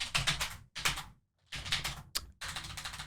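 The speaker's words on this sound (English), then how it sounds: "that's a lot of typing" Fast bursts of keyboard typing, clicky keystrokes in quick runs separated by short pauses, close and clear with no talk.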